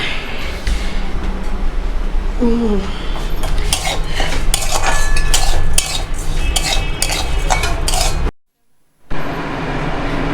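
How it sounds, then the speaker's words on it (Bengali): Rice frying in ghee in a home kitchen pan, stirred with a metal spoon that clinks and scrapes steadily against the pan over a constant sizzle, with a short pause near the end. "অল্প অল্প করে ঘি দিয়ে পায়েসটা মানে চালটা ভেজে নিচ্ছি"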